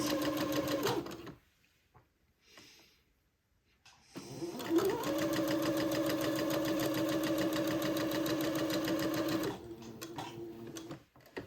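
A sewing machine runs a gathering stitch along a bonnet: a short burst, a pause, then a long steady whirring run of several seconds at a constant pitch, close and loud, ending in a few slower stitches.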